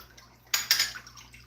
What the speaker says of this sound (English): So we're going to let that water out